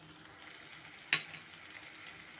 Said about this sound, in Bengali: এখন দিয়ে সমস্ত কিছুর সাথে ভালো মতো করে ভাজা ভাজা করে নেব।